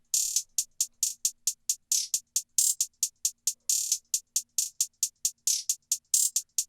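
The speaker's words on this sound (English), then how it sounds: "First, we have this basic hi-hat" Trap beat hi-hat pattern with rolls, crisp high ticks in a steady rhythm broken by quick rapid-fire bursts, isolated and dry with nothing else playing.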